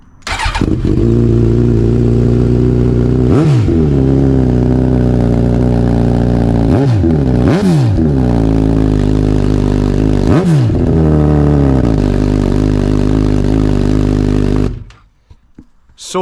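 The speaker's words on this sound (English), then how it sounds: "So loud, that Yoshimura R11 race exhaust." Suzuki Hayabusa motorcycle with a Yoshimura R11 race exhaust, idling loudly then revved hard several times in sharp blips that fall back to a throaty idle before cutting off.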